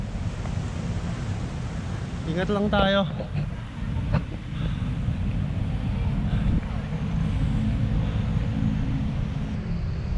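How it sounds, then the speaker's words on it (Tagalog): A strong river current rushes steadily at a bridge, a loud broadband roar of water and wind noise throughout, with someone speaking briefly over it. "Lakas ng agos ng tubig."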